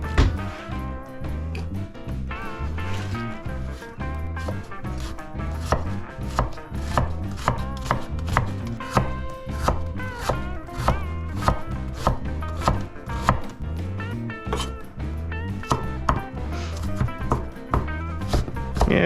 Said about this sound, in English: I've been really loving chopping up vegetables lately.